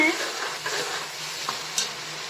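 Gram flour batter hits a hot pan for mustard greens saag, giving a soft continuous sizzle with a few light scrapes of stirring.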